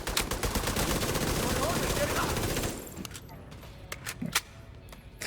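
Sustained, dense video game gunfire rattles loudly for a few seconds, then gives way to scattered single shots and sparse impacts as someone talks.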